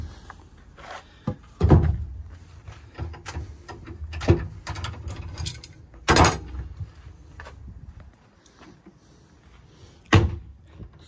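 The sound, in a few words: storage box door on hinges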